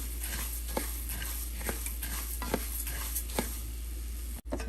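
Coriander seeds and other spices for bisi bele bath powder dry-roasting in a pan, a spatula scraping in a steady rhythm, roughly one stroke per second, over a continuous soft sizzle.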